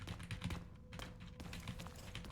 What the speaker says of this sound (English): even though it's probably picking up keystrokes